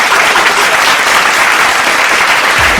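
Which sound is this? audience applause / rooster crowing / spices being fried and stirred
audience applause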